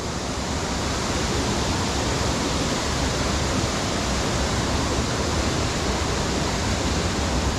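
A waterfall roars nearby as a steady, dense rush of water without any pause or change, loud and alone.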